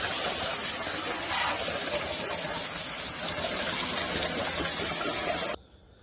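A steady, loud, close rush of water washes over wooden terrace boards during cleaning, keeping an even hiss before cutting off abruptly near the end.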